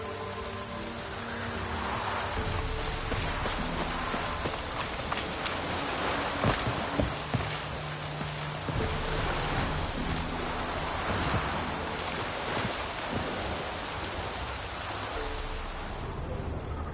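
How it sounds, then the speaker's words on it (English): Steady rain in The Witcher 3: Wild Hunt patters across a surface for the whole stretch, a dense hiss with scattered louder drops and occasional low rumbles underneath. "Looks like rain."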